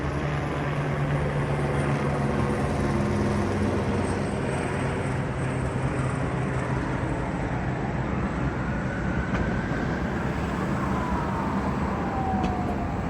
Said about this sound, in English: That's like the 8th police car that has gone over that bridge.